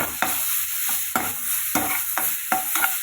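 Ingredients for a tamarind leaf chutney cook in a pan, a loud close sizzle broken by repeated scraping stirs roughly every half second, with no talking.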